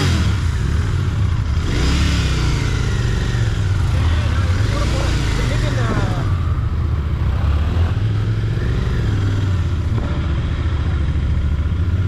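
A Royal Enfield GT650 motorcycle engine runs with a deep, steady rumble and rises in a few revs, heard close on a rainy day while someone talks over it.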